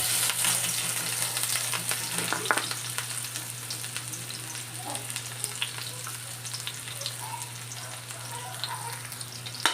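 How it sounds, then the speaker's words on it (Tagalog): Garlic and onion sautéing in hot oil in a pan for pansit miki guisado, a dense continuous crackling sizzle at close range with occasional stirring knocks, no voices. "sabay ko nang igigisa ang garlic and onion."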